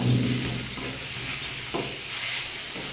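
Mixed leafy greens stirred in a hot pan, a continuous soft sizzle with scraping strokes of the spatula, close and alone without any talk.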